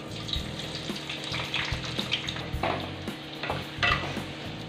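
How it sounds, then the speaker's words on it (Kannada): Onions fry with cinnamon and cloves in a pan for paneer matar masala, a close, steady sizzle broken by repeated clattering stirs. "ನೋಡಿ ಈರುಳ್ಳಿ ಹಾಕಿದ್ದಾನೆ,"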